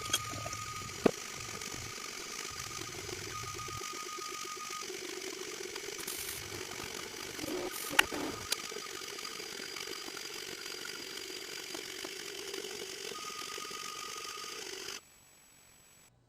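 An Anet A8 3D printer prints a Benchy boat, its stepper motors giving off a steady whirring, ratcheting mechanical drone with small clicks and a faint high whine, running continuously close by before cutting out near the end.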